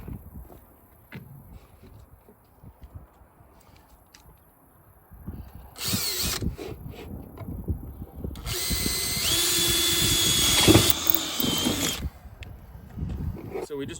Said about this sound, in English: we just drilled our 2 holes in our piece of metal here